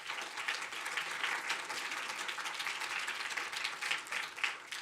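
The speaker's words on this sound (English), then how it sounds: "So, round of applause for each of you." An audience at a nanotechnology startup competition applauds the participants with a steady, moderately faint patter of many hands that keeps going without a break.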